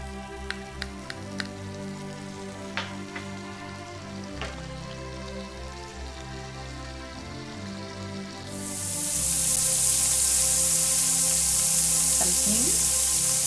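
Vegan margarine or butter hits a hot pan and bursts into a loud, steady sizzle partway through, after a quieter stretch of faint kitchen clinks, with a few light stirring scrapes near the end.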